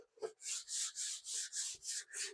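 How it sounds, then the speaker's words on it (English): Hand sanding of body filler on a fiberglass part, a steady series of about seven rhythmic rasping strokes, close and fairly quiet, with no talking. "Same thing, we're going to very gently sand."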